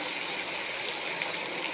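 Water poured steadily into a capsicum gravy in a home kitchen, a continuous close rushing gush with no talk over it.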